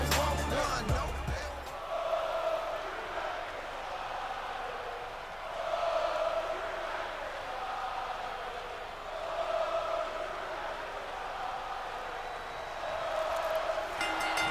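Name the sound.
wrestling arena crowd in video game WWE 2K24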